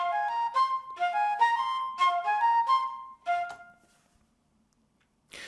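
A virtual orchestra flute plays a short, clear melody of repeated phrases with accents shifted onto different notes, alone and fairly soft, ending in silence with a brief final sound.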